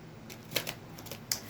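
Tarot cards shuffled by hand in a few quick riffling bursts, faint and close, with short clicky snaps and quiet pauses between them.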